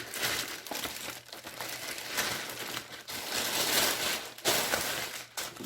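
A plastic bag crinkles and rustles in close handling, sharp crackling bursts coming and going in uneven waves with brief pauses between them.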